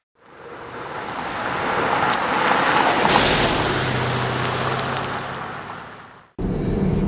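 A Mercedes-Benz GL450 4MATIC driving along, a broad smooth road and wind rush that swells and fades, briefly cut off near the end, with no voices.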